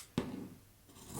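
A single close snip of scissors cutting through T-shirt fabric, one short crisp cut followed by soft rustling of the cloth, quiet and alone.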